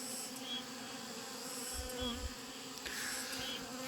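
Steady insect buzzing from many honeybees at a hive affected by foulbrood, a continuous drone with a few louder passes near the listener.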